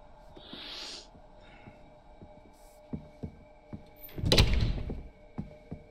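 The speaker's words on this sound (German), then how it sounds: "Klar macht die Tür noch lauter zu" A door slams shut once in The Quarry, a single loud, close thud that stands out in the middle of an otherwise quiet, still scene with faint scattered ticks.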